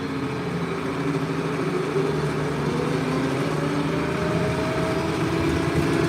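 An IH 3688 tractor engine running steadily while driving home from hay cutting, a loud, continuous drone with a constant hum and no pauses throughout.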